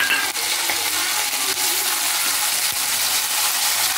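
Curry leaves spitting and crackling in hot oil with chana dal and dried red chillies, a dense steady sizzle close up with a few sharp pops, no voices.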